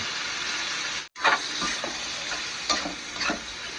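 Marinated pork and its marinade hitting a hot pan for Filipino menudo, cooked without tomato sauce, giving a steady broadband sizzle with a brief dropout and a few soft stirring scrapes; no voices.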